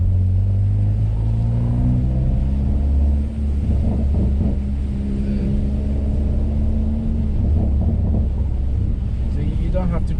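Exhaust of a Hyundai i30N Fastback fitted with a 3-inch Direnza flexi pipe and lowered on H&R springs, a loud steady low rumble from inside the moving car with wind noise, engine note rising and falling as it drives.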